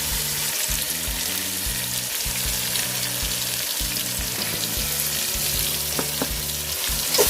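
Chili powder sautéing in a pan for Hyderabadi chicken biryani, a steady close sizzle and crackle with faint stirring scrapes, continuous and even, no talking.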